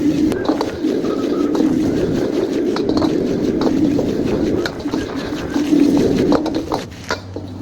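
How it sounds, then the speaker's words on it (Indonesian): Vegetables and egg fry in a pan for mee hoon goreng, giving a steady, loud sizzle and crackle throughout with occasional clinks of a utensil against the pan. "Ini kita goreng dia sampai masak dulu."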